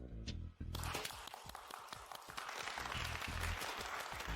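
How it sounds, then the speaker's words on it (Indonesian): A burst of applause rises after a brief pause and continues as steady, lively clapping from a crowd. "tepuk tangan yang meriah"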